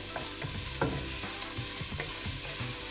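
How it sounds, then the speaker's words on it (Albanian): Onion frying in oil in a pan gives a steady close sizzle, broken by several soft clacks and scrapes of stirring; no talk is heard. "Filloj me qepën, që të skuqim qepën pak."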